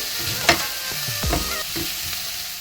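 Onions frying until brown, heard as a steady close sizzle with a sharp utensil tap near the start and a few scraping stir strokes in the pan.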